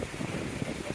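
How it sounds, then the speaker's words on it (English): Strong gusts during a heavy storm in a Bangkok park buffet the microphone in a constant, loud, rumbling rush with no pauses in this brief moment. "Very windy."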